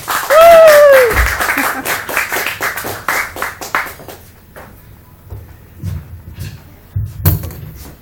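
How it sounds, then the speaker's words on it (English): An audience at a spoken word performance cheers and claps in a dense burst with a woo on top, then the applause thins into scattered claps and fades. "give her a round of applause"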